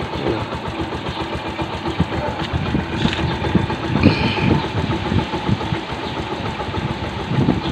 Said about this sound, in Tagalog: Iba talaga ang andar kapag ka puro original yung piyasang nakakabit.